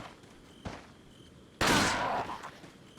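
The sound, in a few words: gunfire in Resident Evil 4 video game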